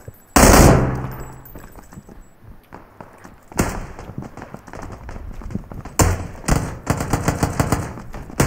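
Bursts of video game gunfire in a battle-royale style shooter, with rapid automatic volleys cracking loudly in a few clusters separated by quieter stretches, close and dominant.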